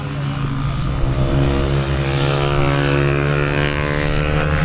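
A racing motorcycle in an eight-hour endurance race at Teesside drones steadily past at close range, its engine holding a loud, sustained tone throughout with no break.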